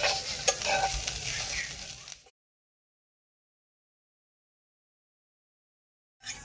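Coconut, green chili, coriander and ginger are stirred and sizzling in a pan for a dried-shrimp curry base. A steady close frying hiss with stirring runs for about two seconds, then cuts to silence, with a brief return at the end.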